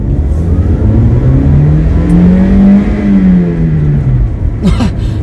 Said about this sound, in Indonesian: Kita coba tenaganya ya, gigi 1, saya gaspol.